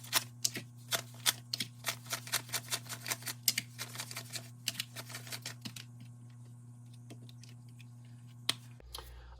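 Cash bills being handled and tucked into a cash tray, a quick run of crisp paper flicks and riffles close by, over a low steady hum, easing off toward the end.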